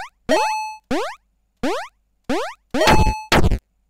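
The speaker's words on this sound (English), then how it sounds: "I made sound effects using SFXR" Retro 8-bit video game sound effects made with SFXR for a Flappy Bird clone: six short synthetic chirps and sweeps, some with rising bouncy pitch, the last ones harsher and noisier, separated by silent gaps.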